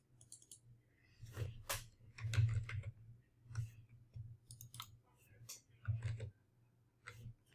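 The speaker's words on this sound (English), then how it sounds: "I'm just going to type in here. I'm going to double click." Mouse clicks and keyboard typing while working in the PicMonkey design editor, a sparse run of light clicks and key taps spread across the span, fairly close and quiet.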